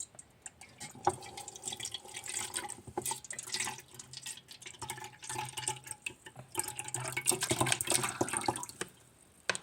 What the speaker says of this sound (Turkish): Neyse şimdi ben bunu boşaltacağım. Bunun tadı çok iğrenç oluyor. Şimdi boşaltıyorum.